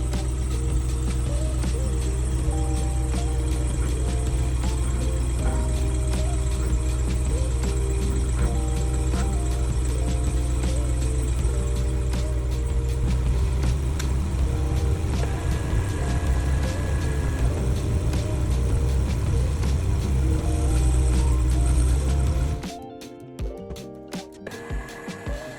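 A pickup truck's engine runs steadily at a campground while it backs up to hitch an Airstream travel trailer, a loud continuous idle hum that cuts off abruptly near the end, leaving scattered light knocks.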